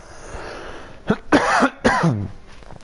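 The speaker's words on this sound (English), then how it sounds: "excuse me, I'm going to cough." A single person coughs several times in quick succession, close and loud, with a short pause between bursts, during a live gaming stream.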